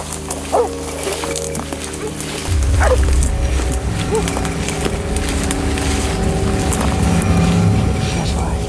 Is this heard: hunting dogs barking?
yes